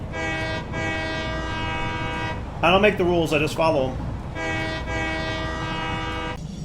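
A train horn in Satisfactory sounds in two long, loud sustained blasts, with someone talking briefly between them.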